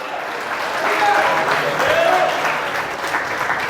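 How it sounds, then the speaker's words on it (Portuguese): A church congregation applauds in worship, a broad sustained roar of clapping mixed with voices and cheering throughout, loud and filling the room. "quem tem palmas aplaude a Jesus de Nazaré."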